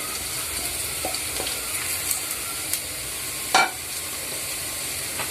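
Fried bitter gourd pieces sizzle in a pan with a constant bright hiss, broken by occasional scrapes and knocks as they are stirred. One sharper clatter stands out near the end.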